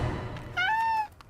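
A single cat meow, clear and fairly close, rising then holding steady for about half a second before cutting off, with no one talking over it.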